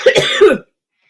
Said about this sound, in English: I have this dry cough I can't freaking get rid of.